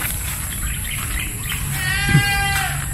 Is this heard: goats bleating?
yes